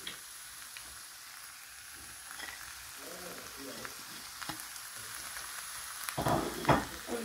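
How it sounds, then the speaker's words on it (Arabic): Chicken pieces fry in a pan with a steady, fairly quiet sizzle and occasional stirring scrapes, growing louder and crackling more toward the end. "غنخليوه يتشحر شويه الدجاج"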